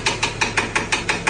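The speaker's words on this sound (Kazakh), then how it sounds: "Мотордан бірдеңе дауыс шығып жатыр." A car engine knocking in a steady, fast rhythm of eight sharp, evenly spaced metallic taps, loud and close, with no talking over it.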